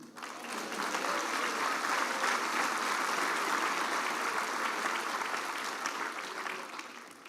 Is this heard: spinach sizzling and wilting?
no